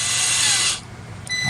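A cordless power driver runs in one steady whirring burst as M3 8mm bolts are driven into a 3D printer extruder mount, then stops, leaving a short tick of the tool and quiet workshop air.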